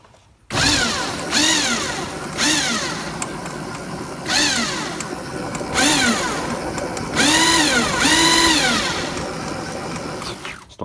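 A Sinclair C5 electric vehicle's motor is run on throttle in repeated bursts, each a rising and falling whine with a mechanical rattling wobble, close and loud, separated by brief pauses.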